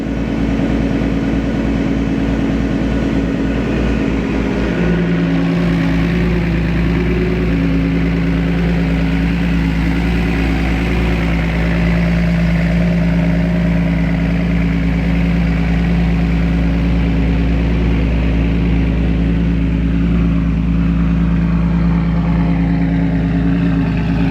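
A car engine runs steadily at idle with the alternator working hard, a loud continuous hum with a strong low drone and a faint whine above it, no voices.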